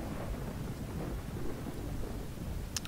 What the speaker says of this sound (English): It's probably because it's raining.